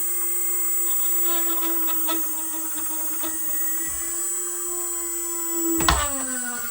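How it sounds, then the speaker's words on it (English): Motor driving a large, heavily loaded generator rotor gives a steady high-pitched whine with a lower hum beneath, holding even throughout, with a brief clunk near the end as the pitch shifts slightly; no talking. "I do have to get the motor going first, because like I say, there's so much drag on this big rotor."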